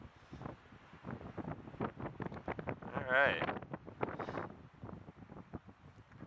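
Gusty outdoor wind buffets the microphone at sunset before a maiden flight of an Eachine Falcon 180 drone, a steady rumble that swells around the middle, with a person talking over it throughout.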